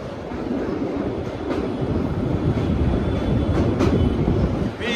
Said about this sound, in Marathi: ट्रेनमध्ये म्हणून आवाज जरा येतोय